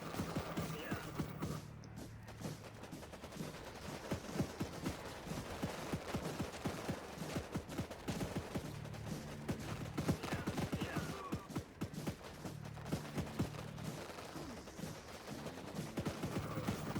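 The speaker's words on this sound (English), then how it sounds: "now I'm shooting the base with most of my men" Gunfire from soldiers attacking an enemy base in the Warpips strategy game, a dense, continuous crackle of small-arms shots mixed with clattering impacts over the whole stretch.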